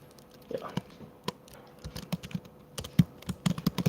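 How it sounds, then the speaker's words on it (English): Typing on a computer keyboard into a chat box: irregular bursts of close, sharp keystrokes, sparse at first and then quicker, with faint voice sounds in between. "So I'm also typing it simultaneously here in the chat box."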